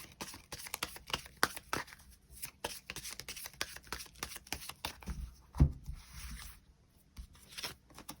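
Tarot cards are shuffled and drawn close up in a quick run of crisp riffles, flicks and taps, irregular in rhythm with short pauses and a soft thump partway through.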